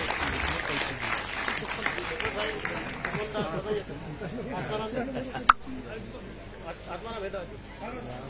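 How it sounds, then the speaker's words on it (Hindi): Crowd applause at an ashram bhoomi pujan ceremony, a dense wash of clapping in the first few seconds that thins into murmuring chatter and crowd babble, with one sharp knock partway through. "तालियां उतनी ही बजनी चाहिए।"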